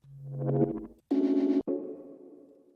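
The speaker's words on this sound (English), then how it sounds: "like short synth sounds." A few short synth notes in quick succession: a tonal blip, a buzzy pulsing burst, then a decaying tone after a sharp click.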